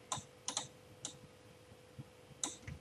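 Several sharp key clicks on a computer keyboard while entering shortcuts, with irregularly spaced taps and a quick double press near the end, close and fairly quiet over a steady low hum.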